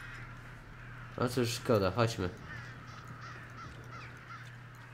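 Crows in the video game Redfall let out a short run of harsh, loud caws, surrounded by a low steady hum, while someone speaks Polish.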